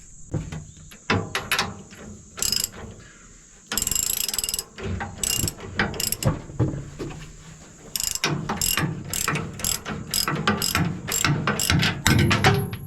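Ratchet socket wrench tightening bolts on a dirt screen, rapid clicking bursts in repeated strokes with short pauses between, close and crisp, no talking.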